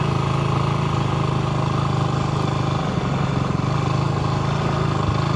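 A motorcycle ridden in second gear, its engine holding a loud, steady drone close by with no breaks or gear changes.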